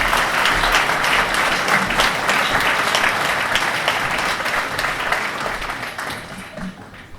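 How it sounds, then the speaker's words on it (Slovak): A crowd at a village-of-the-year award ceremony in Budmerice, Slovakia, claps steadily and loudly throughout, a dense wash of applause that tapers slightly toward the end. "Samozrejme, privítajte potleskom."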